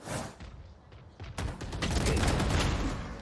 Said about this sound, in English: Body shots onto the player in the back, into a flick headshot on the player at the front